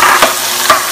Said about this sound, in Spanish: Y vamos a poner lo que es la cebolla. Bueno, la pone dentro.